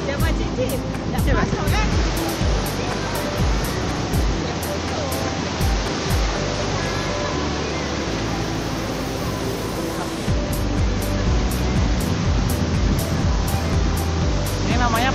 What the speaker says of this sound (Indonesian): Masuk, ini namanya Pantai Tapak Batu di Lais.